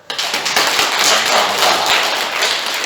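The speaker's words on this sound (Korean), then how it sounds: "박수 한번 칠까요?" A church congregation claps together at a Korean Sunday worship service marking the church's 115th anniversary, a dense, steady wash of many hands lasting throughout, loud and close with no talk over it.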